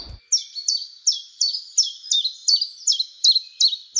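A songbird in a quiet forest repeats a bright, sharp chirping phrase about a dozen times in a steady rhythm, clear and fairly close with little else around.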